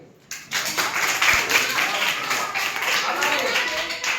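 A classroom of students claps together once on cue, a dense burst of hand claps starting early and carrying steadily through to the end, close and moderately loud.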